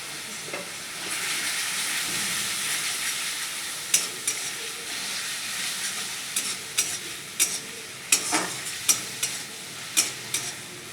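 Onion sizzling in a pan with turmeric and tomato, a steady frying hiss at first and then sharp, regular spatula scrapes and taps in the second half, close and loud, with no voices.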